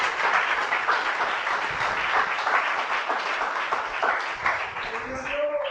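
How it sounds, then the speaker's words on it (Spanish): A church congregation applauds loudly and steadily throughout, dense clapping with cheers and voices mixed in, sustained without a break. "Dale un fuerte aplauso al Señor"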